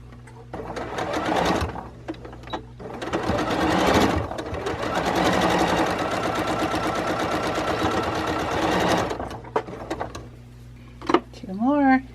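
A sewing machine stitches a fabric face mask close to the edge of a fold, running in several sustained bursts with brief pauses, loud and close, ending with a short squeaky sound.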